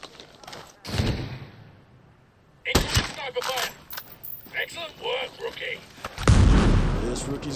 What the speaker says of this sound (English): We're gonna take sniper fire!